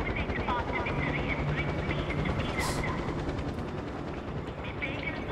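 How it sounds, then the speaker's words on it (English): A helicopter in the video game Far Cry 4 flies nearby, giving a steady, loud rotor chop that runs through the whole stretch amid other game noise, with a player talking over it. "That helicopter's distracting me."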